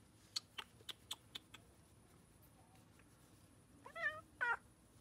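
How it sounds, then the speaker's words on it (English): Several sharp taps like keys being pressed, then two short, rising meows from a nearby cat in a quiet room. "It's a French kitty."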